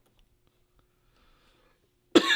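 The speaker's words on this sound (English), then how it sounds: "Apologies for all the coughing." Near silence, then a single loud, harsh cough bursts out close by at the very end.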